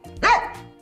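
A single short dog bark, close and fairly loud, with a brief tonal tail and no other sounds.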